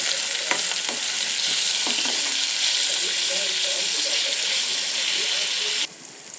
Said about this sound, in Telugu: ఇప్పుడు ఇవన్నీ బాగా ఫ్రై అవ్వాలి